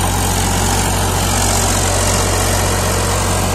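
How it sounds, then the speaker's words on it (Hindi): A Powertrac Euro 50 Plus 55 hp tractor engine runs steadily at a loud, constant idle, with a deep low hum and rough mechanical rumble throughout. "देख सकते हैं ट्रैक्टर खुल के ट्रैक्टर चल रहा है"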